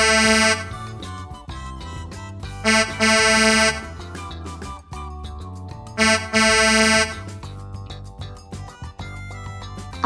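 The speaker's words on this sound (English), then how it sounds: "Trucks carry heavy things like boxes and food." Truck horn honking in loud, sustained blasts, with a few long honks spaced across the stretch over a busy, music-like background of tones.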